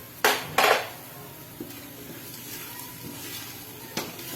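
Biryani masala with Kitchen King masala and coriander powder is stirred and sautéed in oil in a pan, with a few sharp clatters of the spoon against the metal and a soft sizzle in between.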